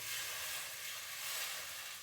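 Loud, steady sizzling hiss close by as liquid is poured into a hot pan while making roasted cauliflower soup, continuing without a break.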